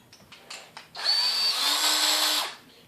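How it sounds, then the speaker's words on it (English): A cordless power drill on its slowest high-torque setting, running while threading an AK47 or SKS rifle barrel: a few short taps, then one steady whirring run of about a second and a half that stops cleanly, close and fairly loud. "And I'm putting my drill just on its slowest high torque setting."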